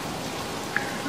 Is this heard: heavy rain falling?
yes